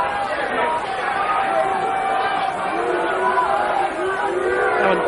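Boxing match crowd noise at Chris Eubank versus Michael Watson II, a constant dense hubbub of many voices filling the arena, steady and fairly loud with no distinct cheers standing out.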